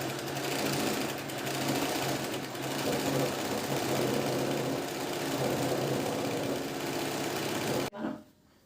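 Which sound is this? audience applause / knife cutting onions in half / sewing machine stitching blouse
sewing machine stitching blouse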